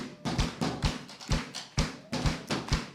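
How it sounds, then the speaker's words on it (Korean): Rhythmic hand clapping during a Sunday church worship service, about a dozen fairly steady claps in a regular beat, moderately close, with no talking over them. "박수"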